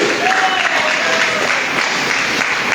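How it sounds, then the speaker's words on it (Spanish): A congregation claps steadily and densely throughout, a loud continuous wash of applause with faint voices mixed in. "Dele palmas al que vive si así lo cree."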